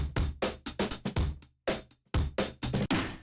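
The original drum break at normal speed, with tight kick and snare hits in a fast rock pattern and a short gap midway, heard up close and alone.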